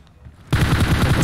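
Gunfire breaks out in a video game battle, a sudden loud burst of rapid repeated shots beginning about halfway through and continuing as a dense, steady automatic volley after a quieter opening.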